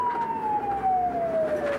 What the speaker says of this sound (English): And, Marty, could you go lights and sirens?